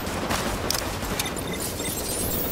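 Gunfire in the video game The Division, a dense, continuous fusillade of rapid shots crackling without pause, loud and close.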